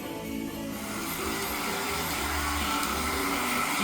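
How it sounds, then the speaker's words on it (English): A steady whooshing roar of a 45-year-old hair dryer setting tape on an acrylic painting, a constant airy hum that holds at a fairly loud, close level throughout. "get my old trusty 45-year-old hairdryer"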